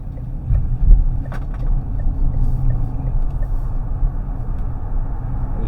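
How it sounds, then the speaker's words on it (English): Steady road rumble and wind noise inside a 2025 Deepal S07 electric car as it accelerates gently in sport mode, a continuous low drone holding an even level with no engine note and no talk. "even in sport mode, that's just a very gradual acceleration there"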